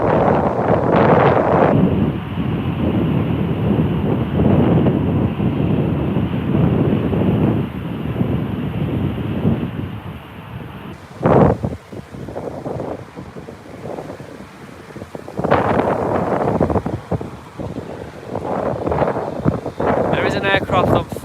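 Strong gusts buffeting an outdoor microphone at a planespotting spot near Heathrow, loud rumbling roars that come and go in surges, with someone talking between and over the blasts.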